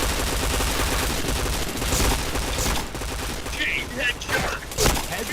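Rapid bursts of gunfire and automatic weapon fire ring out in a shooter video game, dense and loud, while a player talks over the shots.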